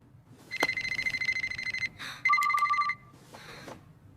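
Phone ringing on an outgoing call: a steady electronic ring pattern repeats in clear bursts, close and moderately loud, with no one speaking.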